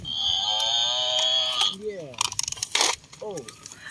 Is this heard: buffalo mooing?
yes